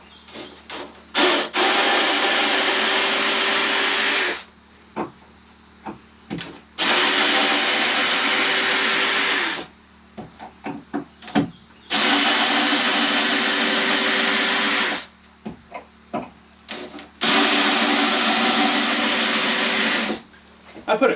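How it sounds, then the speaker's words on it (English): A power drill whines in four long, loud runs while backing screws out of a staircase in a tiny pallet house, with short clicks and knocks in the pauses between. "we unscrew the staircase"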